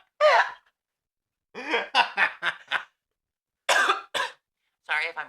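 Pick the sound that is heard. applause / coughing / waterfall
coughing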